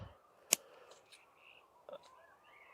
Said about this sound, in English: some of these lower leaves, I'm going to cut off, leaving about an inch of stem